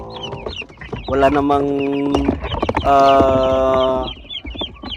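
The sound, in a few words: broiler chicks chirping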